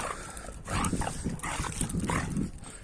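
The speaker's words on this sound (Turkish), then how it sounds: "Bu da baksırımız dişi baksır." A female boxer dog makes short nasal whimpers and snuffling sounds up close, in a few uneven bursts.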